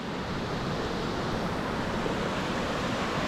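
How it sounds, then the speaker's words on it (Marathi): A monsoon waterfall near Morbe dam in Panvel gives a constant, dense rush of falling water, loud and unbroken throughout. "आता आपण पोचलो दुसऱ्या वॉटरफॉलला"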